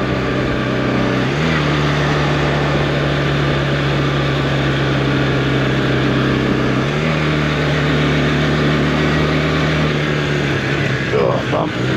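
A Honda CB450T motorcycle revs and shifts up through its gears in a steady loud drone, its engine pitch stepping up at each gear change with a brief rattle near the end.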